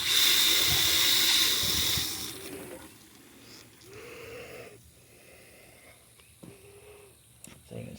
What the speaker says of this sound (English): run some water.